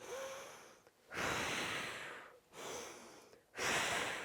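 Slow deep breathing close up, three long airy breaths with brief quiet gaps between them, each a sustained rushing inhale or exhale with no speech.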